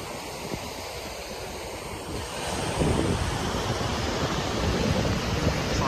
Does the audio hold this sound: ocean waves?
yes